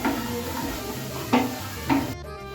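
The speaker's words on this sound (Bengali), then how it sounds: "এবার দিয়ে দেবো হচ্ছে হলুদ আর লঙ্কার গুঁড়ো। ভালো করে কষিয়ে নেব।" Turmeric and chili powder masala fries in a pan, sizzling under a spatula with a few distinct scrapes and knocks, close up before the sound cuts out abruptly.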